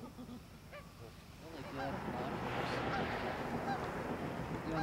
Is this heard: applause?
no